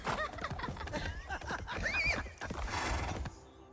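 A Minecraft Legends horse whinnies with a rising pitch and paces with clip-clopping hooves, the steps mixed with game effects and low rumbling, close and fairly loud throughout.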